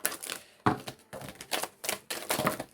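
Tarot cards are shuffled and cut by hand in a rapid series of crisp papery slaps and riffles. The bursts are close and distinct, about six or seven within a few seconds, with no talk over them.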